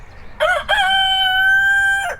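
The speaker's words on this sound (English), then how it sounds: "That's our rooster, you can hear him." A rooster on an off-grid homestead gives a single loud, close crow, with a short opening note followed by a long sustained call. No one speaks over it.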